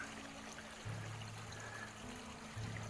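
Laurel Fork Creek, swollen after days of rain, flows with a faint, steady rush of water heard from a short distance on a foggy, mild December day.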